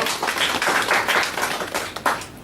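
A crowd applauds steadily, dense clapping that holds at an even level and swells slightly near the end.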